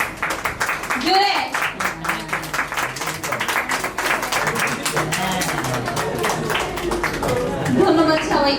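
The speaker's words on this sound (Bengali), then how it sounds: "হ্যাঁ, হাততালি" Guests at an engagement party clap after the cake is cut, a lively burst of applause close by that carries on throughout, with voices and chatter mixed in.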